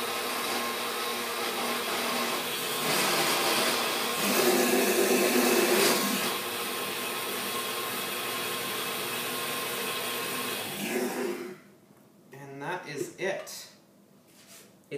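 A blender whirring steadily as it mixes chocolate mousse with almond, loud and close for about eleven seconds, then cutting off as a person starts speaking.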